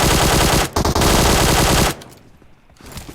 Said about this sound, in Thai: นี่ปืนลั่นปืนลั่นปืนลั่น